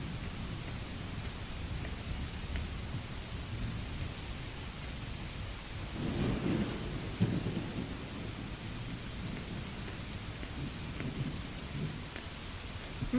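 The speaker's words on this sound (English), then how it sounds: "the rain ambience. That is perfect." Steady rain falls throughout as continuous close hiss and patter, with a deeper rumble of thunder swelling around the middle before the downpour carries on evenly. No voices.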